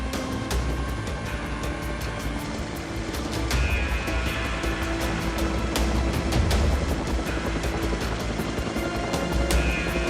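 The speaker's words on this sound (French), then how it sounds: "le capitaine fait appel aux hélicoptères de sauvetage de la Marine nationale" A French Navy rescue helicopter's rotor drones steadily overhead, with rushing wind and rough sea noise beneath it, fairly distant and continuous.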